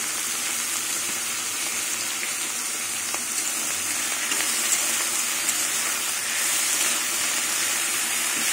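Neem leaves, eggplant and potato fry uncovered in a pan, a steady, close, soft crackling sizzle of hot oil that holds evenly throughout with no talking.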